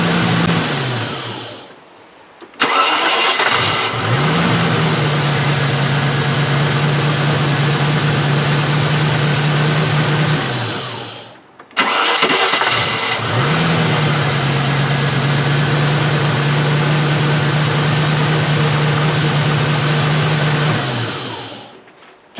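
A Range Rover engine with a fault cranks and catches twice, each time settling into a loud, steady idle close by, with a brief silent pause between the two starts.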